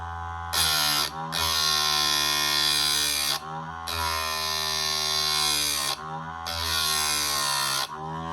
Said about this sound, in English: Just take your time grinding each tooth.